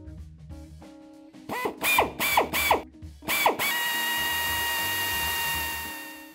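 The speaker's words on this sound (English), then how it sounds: "now I'm going to drill my hole" A small drill bores a pilot hole into a chrome motorcycle handlebar clamped in a vise with soft jaws, several short whining bursts followed by a steady high-pitched cutting drone.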